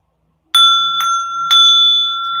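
A small heart chakra bell struck three times at an even pace, each bright ring sharp at the start and lingering with a clear sustained tone, alone in an otherwise quiet room.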